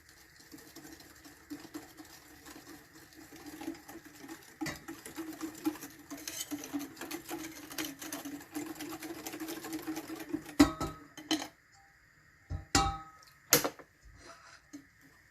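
Hot milk whisked quickly into a coffee-chocolate mixture in a bowl, a fast, rapid, fine pattering and ticking of the whisk, close and fairly quiet, ending with a few louder knocks.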